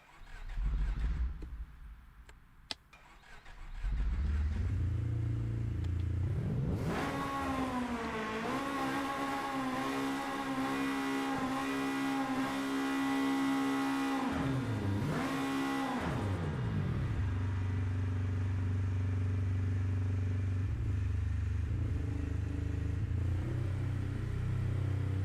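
Video game car engine revving on a dyno in Apex Point, alone and loud, rising through a long sustained climb in pitch, dipping briefly, then settling into a steady lower drone.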